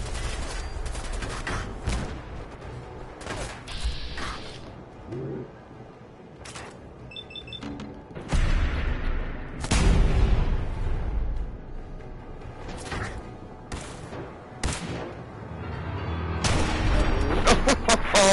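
Grenade blasts and bursts of gunfire in Fallout 4 while fighting a Legendary Raider, with loud booms at intervals and scattered shots throughout, voices talking at times.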